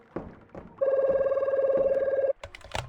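Phone ringing in the horror fishing game Loan Shark: a steady electronic ring holds loud and continuous for about a second and a half, bracketed by scattered game thumps and clicks before and after.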